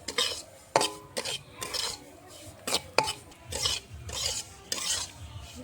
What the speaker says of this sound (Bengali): নারকেলের সঙ্গে সুজিটাও ভেজে নেব, তাহলে কদিন রেখে খেতে পারবে তোমরা।